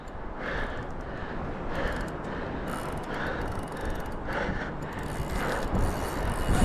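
A fishing reel's drag ratchets hard as a shark strips line off the spool while shark fishing at Cumberland Island, Georgia. The clicking runs continuously and close, rising in loudness toward the end.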